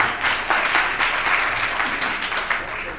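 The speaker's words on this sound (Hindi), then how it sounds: "जोरदार तालियां बजाएं" Audience applause at a Jain religious discourse gathering, a dense, steady wash of many hands clapping close by for about three seconds without a break.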